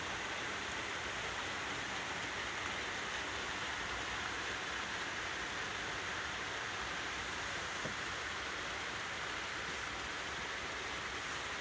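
Steady rain falls during outdoor garden work, a continuous even hiss of moderate level with no breaks and no voices.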